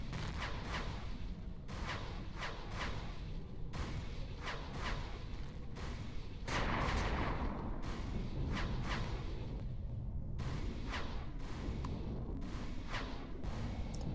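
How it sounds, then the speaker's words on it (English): Artillery guns in the space game Empyrion pound a capital ship with a rapid string of about a dozen heavy booming shots over a steady, loud battle roar. "Get those artillery guns to work"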